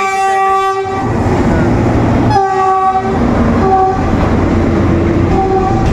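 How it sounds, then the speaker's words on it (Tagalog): A passenger train passes close by in Bato, Camarines Sur, its loud rumbling and rolling clatter continuous throughout, with repeated horn blasts sounding over the noise. "Ayan, dumadaan na yung train dito simula noong December"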